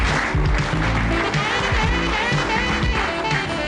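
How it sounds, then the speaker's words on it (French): Studio audience on an Algerian television variety show applauds steadily and loudly throughout, a continuous wash of clapping with music or voices running underneath. "Est-ce qu'ils arrivent sous les applaudissements du public?"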